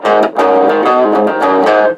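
Electric guitar played through an overdrive pedal with reverb switched off, a few loud, slightly gritty picked chords with short sharp attacks and dry, abrupt decays.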